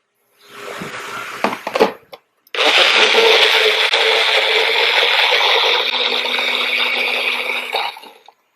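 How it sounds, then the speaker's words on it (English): A blender whirs loudly and steadily, blending a banana and almond milk smoothie, for several seconds after a couple of short starting pulses, then cuts off. "And then I'm going to pop it in my blender."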